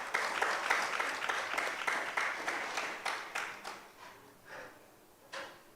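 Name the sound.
audience applause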